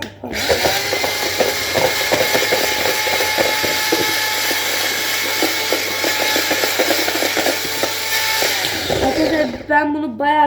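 Pancake batter whisked by hand in a bowl, a fast steady run of clicking, scraping strokes that goes on close and loud for about nine seconds, then stops as a voice speaks briefly at the end.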